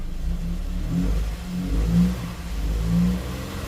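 A misfiring 2009 car engine on bank 2 is revved with light throttle, a rough low rumble that swells in three uneven surges over a steady idle, close by with no talking.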